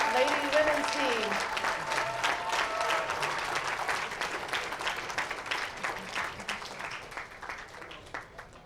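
Sustained audience applause greets the 2019 Team USA women's bowling team at the U.S. Amateur stepladder finals, a dense wash of clapping with some crowd voices and a faint tone early on, tapering slightly over several seconds.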